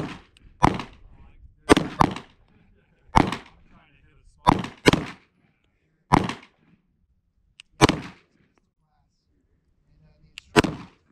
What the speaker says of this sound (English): we'll shoot some, see if it'll function with the reloads here.